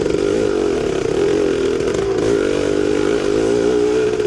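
A vintage 1974 Yamaha MX360 two-stroke motorcycle engine revs during a cross-country race, a loud, close, continuous buzzing drone with a steady rasping pitch and small fluctuations.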